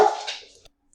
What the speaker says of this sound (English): I truly apologize for my dogs.